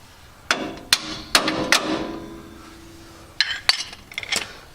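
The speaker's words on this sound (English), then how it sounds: "That big old crescent works pretty good as a hammer." Large crescent wrench used as a hammer on off-road 4-link rear suspension, a handful of sharp metallic strikes in two uneven clusters with ringing decay, close and fairly loud.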